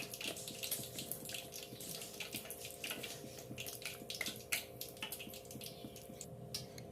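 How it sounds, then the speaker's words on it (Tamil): A thin stream of water pours and splashes into a bowl of mushroom batter close by, with a faint steady hum underneath. "இப்போ தேவையான கொஞ்சமாக தண்ணி ஊற்றிக்கலாம்"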